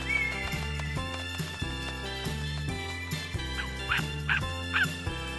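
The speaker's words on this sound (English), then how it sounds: "D for dog." A cartoon dog barks several quick times over a bouncy children's alphabet song, the yaps sitting just above the steady music.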